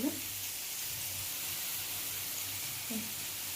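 Bitter gourd frying in a pan, a faint, steady low sizzle throughout, quiet and untouched.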